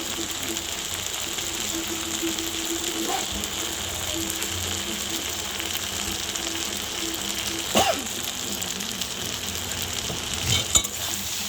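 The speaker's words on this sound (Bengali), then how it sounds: "এটা আস্তে আস্তে মোটামুটি এই যে তেলটা ছাড়বে, নাড়ানাড়ি করছি আমি।" Kochur loti (taro stolons) cooking with shrimp in oil gives a steady, even sizzle as it is stirred, with a few sharper scraping clicks from the spatula in the pan.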